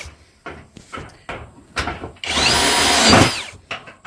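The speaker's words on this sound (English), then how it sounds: "I just hold on to the wing nut and I tighten it with a drill" A cordless drill whirs in a sustained burst of about a second, driving wing nuts tight on a metal raised garden bed, framed by clanks and knocks of handling metal panels before and after.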